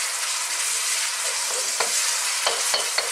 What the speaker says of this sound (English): Very simply, we're going to fry this in the pan.